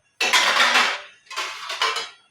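Two metal clatters of a vessel being set over a pot of chicken curry to cover it, a long scraping clang followed by a shorter rattling pair, close and alone without talk.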